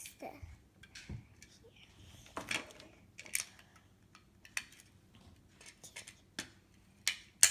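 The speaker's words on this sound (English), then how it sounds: "I'm gonna get my scissors to open it. One snip." Scissors snip open a small plastic blind bag, making quiet, scattered clicks and snips spread out in an irregular rhythm against a hushed indoor background.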